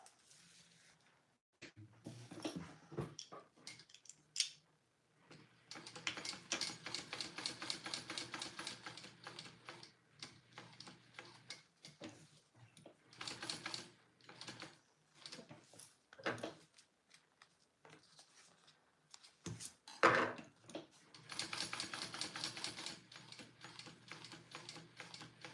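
A sewing machine stitches a name tag onto a fabric pouch in quick mechanical bursts with pauses between runs, quiet and close.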